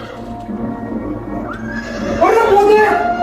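A horse lets out a loud, close whinny in the second half, rising and wavering over a low background murmur of people, with a faint hoof clop.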